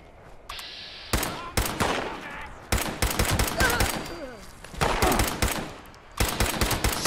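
Level 1 pistol gunfire in the Fallout 76 video game: sharp, loud bursts of repeated shots in several volleys across the clip, with game sounds and faint voices between them.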